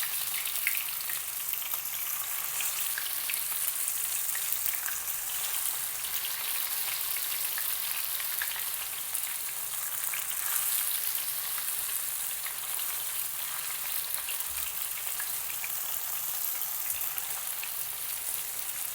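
Algerian chicken boureks sizzle steadily in hot oil in a pan, a dense, continuous crackle of bubbling fat with scattered pops, moderately loud and unbroken for the whole stretch, with no voices.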